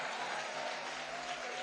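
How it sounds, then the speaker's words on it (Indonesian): A church congregation applauding during a Sunday worship service, a dense, even patter of many hands clapping continuously at a moderate distance. "Kalau mau tepuk tangannya meriah untuk Tuhan."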